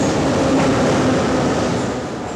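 A Moscow metro subway train rumbles loudly and steadily nearby, a dense roar of wheels and carriage noise with a faint tonal whine and no speech.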